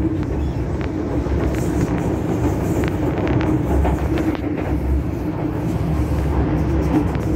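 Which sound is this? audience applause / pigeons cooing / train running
train running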